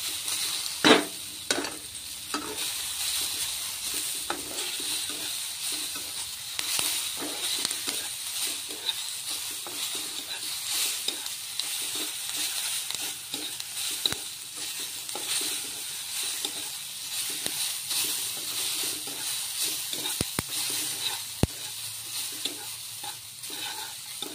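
Semolina for jhaal suji fries in a pan with a steady bright sizzle while a spoon stirs and scrapes through it repeatedly, with occasional clicks against the pan over a long stretch.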